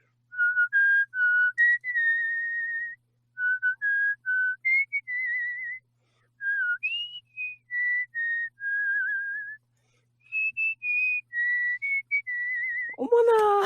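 Clear, melodic human whistling made up of short phrases of sustained and sliding notes separated by brief pauses, fairly close and loud, performed alone as a special event during a live Korean talk broadcast, with a sudden burst of other sound at the very end.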